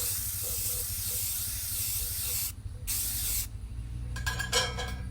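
Spray paint hisses out of a can in long steady bursts, loud and close, with a short break, then a few shorter sprays and a faint clink at the end.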